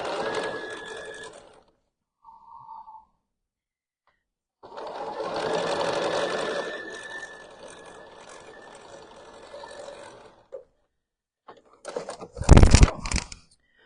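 Sewing machine stitching quilt-as-you-go pieces together, running in several bursts of steady mechanical whirring separated by pauses, with a sharp louder clatter near the end.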